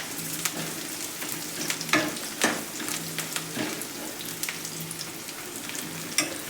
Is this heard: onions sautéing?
yes